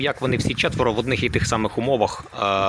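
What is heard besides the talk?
No everyday noises stand out.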